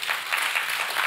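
Audience applause from a church congregation at the end of a sermon, a steady wash of many hands clapping together for about a second, dense and even in loudness with no break.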